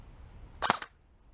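An ICS airsoft M1 Garand rifle fires once at a red cup, giving a single short, crisp pop with a quick faint rattle after it against a quiet background.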